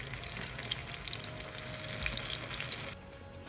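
A golden-brown cutlet fries crisp in a pan and is turned with a fork; a loud, dense, steady sizzle runs close by, then drops off sharply near the end.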